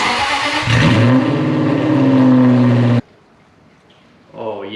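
An Aston Martin V8 Vantage with a Velocity AP X-pipe exhaust, cats and a Stage 2 tune fires up and revs, a loud, close engine roar that cuts off abruptly before a quieter stretch and a short return of sound.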